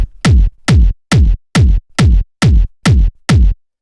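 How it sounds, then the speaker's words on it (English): Hard-hitting, fat industrial hard techno kick drum strikes eight times at a steady, driving tempo, each hit deep, punchy and loud with a short booming tail, alone with nothing else. "it's just a super hard hitting fat kick like this"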